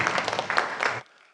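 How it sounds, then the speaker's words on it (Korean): Congregation at a Sunday church service applauds the choir, a brief burst of dense clapping that cuts off abruptly after about a second, leaving near silence. "우리 하나님께 영광을 우리 할렐루야 찬양대 감사와 격려의 박수 하겠습니다"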